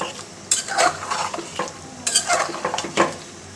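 Ginger paste and spices are stirred together in a hot pan, giving a close sizzle with bursts of spatula scraping against the metal, and no one speaks.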